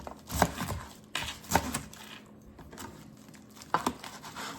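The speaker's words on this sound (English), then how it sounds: "I just take it and kind of cut it like in slices, like so." A knife slicing through a head of cabbage on a cutting board, several crisp crunching cuts in an uneven rhythm with short pauses between, close and fairly clear.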